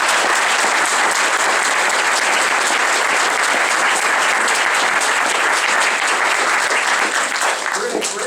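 An audience applauds after a talk by Dr. June Pilcher, with dense sustained clapping that fills the whole stretch at steady loudness and eases slightly at the end.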